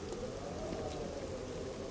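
Steady rain falls in the survival game 7 Days to Die, a soft continuous hiss of drops spread evenly with no distinct impacts, filling the quiet scene without voices.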